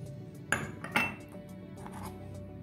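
A spoon stirs tamarind pulp, lemon juice and spices together in a bowl for black chana chaat, giving two distinct metallic clinks against the dish followed by quieter scraping, with no talking.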